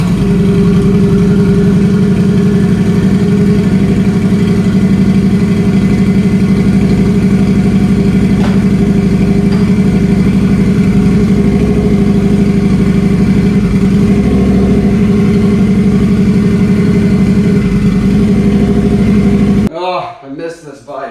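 A turbocharged Harley-Davidson V-Rod motorcycle engine runs at a steady, loud, close idle, a dense droning hum for about twenty seconds that cuts off abruptly near the end.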